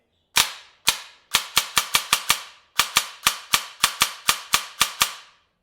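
Sharp snapping shots from a 14.8v DSG gel blaster on semi-auto, about twenty crisp single shots in quick irregular succession, loud and close with nothing else heard.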